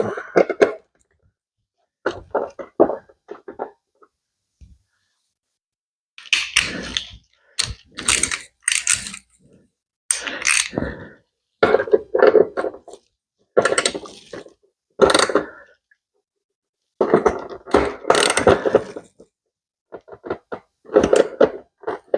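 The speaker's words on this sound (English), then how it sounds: "We're gonna take the 10 mil socket and we're gonna tighten that back up" A 10 mm socket ratchet tightens a bolt on a 2000 Suzuki TL1000R motorcycle during tail light replacement, heard as close bursts of rapid clicking that stop and start in irregular runs, with silence between.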